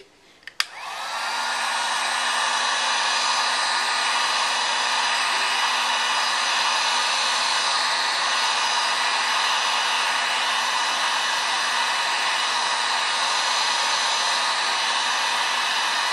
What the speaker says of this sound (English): I use my my heat gun, and I just start heating it from the edges out.